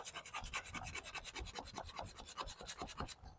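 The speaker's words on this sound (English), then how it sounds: "we can get away with using a coarser grade of sandpaper because we're doing strictly vertical sanding strokes" Coarse sandpaper worked by hand in strictly vertical strokes over the painted side of a narrowboat outdoors, giving a steady run of rapid, close rasping scrapes in an even back-and-forth rhythm with no talking.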